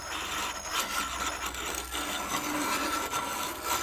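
Wonder Junior hand grain mill grinding wheat, a continuous close gritty rasping and crunching that rises and falls steadily with each turn of the handle, with no talk.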